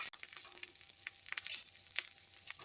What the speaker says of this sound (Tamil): கொஞ்சம் கறிவேப்பிலை இதையும் சேர்த்துட்டு நல்லா வதக்கிக்கலாம்